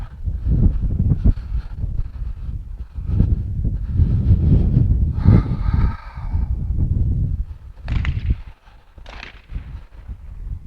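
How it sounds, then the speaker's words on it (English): Gusty wind buffets the microphone at a 50-yard shooting range in loud, low rumbling bursts that rise and fall, with a few brief rustling sounds in between. "Boy, is it windy today."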